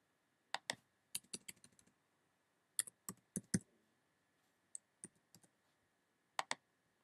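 A computer keyboard is tapped to enter a value into a box, giving short bursts of crisp, close key clicks separated by brief pauses, with a soft steady hum underneath.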